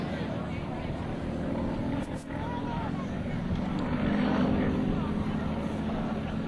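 A propeller aerobatic plane performs inside and outside loops at the Cold Lake International Airshow. Its steady engine drone lasts throughout, with a commentator speaking over it.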